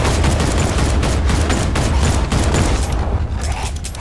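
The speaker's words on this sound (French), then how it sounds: "c'est moi qui tire, hein, mais c'est totalement scripté" Sustained, loud gunfire from Batman Arkham Knight fills the scene as a rapid, dense barrage of shots and booms with no pauses and no talking.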